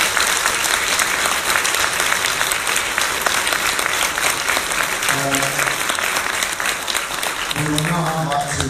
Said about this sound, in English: can I ask you to give them a round of applause